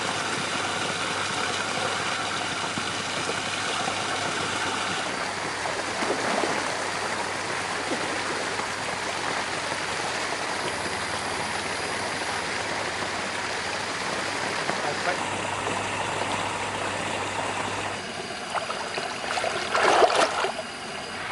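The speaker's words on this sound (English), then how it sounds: "they've just turned the water fountain on" Steady broadband rush of running water from a fountain beside a swimming pool in Thailand, continuous and fairly loud throughout, with a faint low hum underneath.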